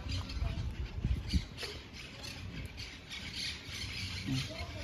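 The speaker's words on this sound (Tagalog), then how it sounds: "At yan, ang daming ibon dito mga guys." Birds squawk and chirp in short calls over a busy outdoor background with low rumbling noise.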